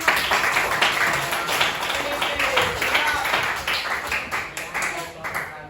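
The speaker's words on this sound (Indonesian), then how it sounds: "Beri tepuk tangan." A classroom of students claps hands during a mathematics lesson, a short burst of uneven, close clapping that tapers off after a few seconds.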